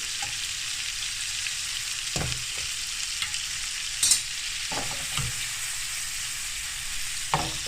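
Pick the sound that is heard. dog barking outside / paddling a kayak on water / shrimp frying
shrimp frying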